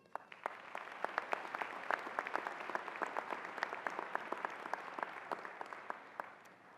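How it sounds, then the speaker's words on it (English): A large crowd applauds at a dentistry school graduation ceremony. Dense, continuous clapping is heard from a distance, with a few sharper claps standing out, steady and moderately loud throughout with no talking. "They deserve a round of applause"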